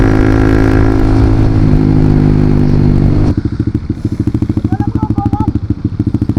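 A Honda CBR motorcycle engine holds a loud, buzzing high rev, then drops sharply into a rapid, lumpy popping idle with a throaty exhaust burble, heard up close.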